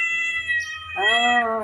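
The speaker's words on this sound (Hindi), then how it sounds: "बिल्ली म्याऊं म्याऊं कर रही है, बैठी हुई है यहाँ पे।" A house cat sitting by a door gives a single drawn-out meow, near and clear, rising and then falling in pitch, with faint background noise before it.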